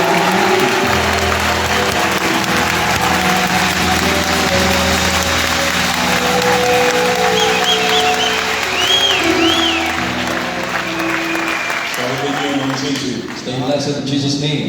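A church congregation at a Congolese gospel gathering bursts into loud, sustained applause and cheering that lasts many seconds, dense and close, then eases off toward the end.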